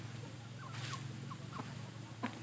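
A young Thai gamecock, about seven to eight months old, gives a few soft, scattered clucks against a steady low background hum, heard fairly close.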